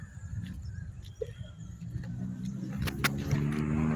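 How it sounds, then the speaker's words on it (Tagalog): Road traffic rumbles past in an outdoor setting, with cars and other vehicles passing continuously at moderate distance, one engine swelling as it nears, faint birdsong above. "Dami sasakyan no?"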